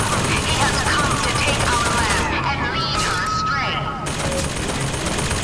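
Rapid machine gun fire in the shooter Bioshock Infinite, a dense sustained barrage of gunshots that stays loud and continuous throughout, with game sounds layered over it.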